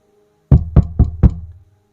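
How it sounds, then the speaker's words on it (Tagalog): Four loud, evenly spaced knocks on a door ring out sharply and close up after a moment of silence, each one booming low before fading. "Isang malakas na katok ang narinig nila."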